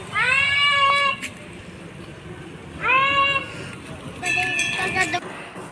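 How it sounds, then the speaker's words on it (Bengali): A house cat meows three times at a home during an afternoon routine, close and clear with long, drawn-out cries separated by pauses and quiet background noise. "পাপিকে ডাকলাম বিড়াল চলে আসছে"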